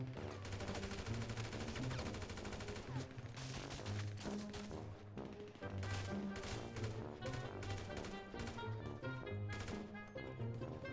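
Rapid gunfire in the video game GTA V during a Land Grab match, dense overlapping shots that crack continuously and loudly with no pauses, heard alone without talk.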